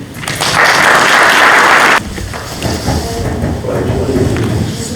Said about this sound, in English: we're going to clap for you as you come up